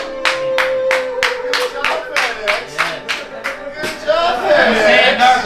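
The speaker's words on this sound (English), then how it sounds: "Clap it up." Audience at an Oklahoma underground event clapping in a steady, even rhythm, close and loud, that loosens into scattered applause and cheering near the end.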